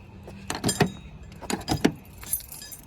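Keys jangling in two short bursts while an Audi is being locked, close and bright, each burst a quick cluster of metallic clinks.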